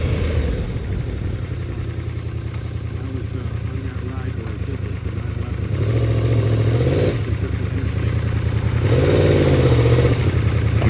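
A motorcycle engine runs steadily at speed with a continuous low drone, swelling louder twice as the revs rise, under a voice talking.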